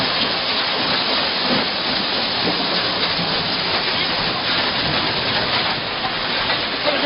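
Stream of water flowing in during a flood, a loud continuous rushing and splashing wash that holds steady throughout with no voices.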